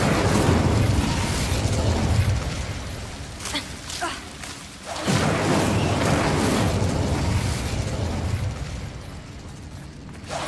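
The Incendio fire spell is cast in Hogwarts Legacy and lands as a burst of fiery whoosh midway through. Around it runs a loud, continuous game soundscape with rumbling effects, and a voice is present.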